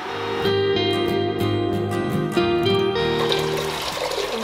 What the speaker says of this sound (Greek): Βάζουμε το νερό και τα μακαρόνια.